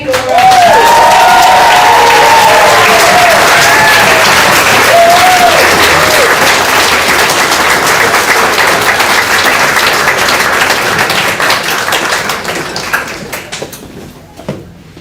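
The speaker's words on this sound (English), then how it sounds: "please join me in applauding Laura Gardner-Perry" A large audience breaks into loud, sustained applause with a few whistles early on, the clapping slowly thinning and fading away at the end.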